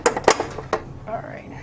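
A mixing bowl and whisk clatter together while making tiramisu, giving a few sharp, bright metallic clinks close by in quick succession, followed by faint softer rattling.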